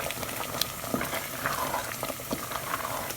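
Mushroom risotto simmering in a pan as stock is added, a close, steady bubbling and gentle sizzle with small pops, with no talk.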